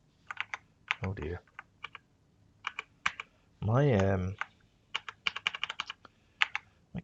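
Clicking computer keyboard typing with a sticking control key, bursts of quick keystrokes near the mic interrupted by brief spoken words.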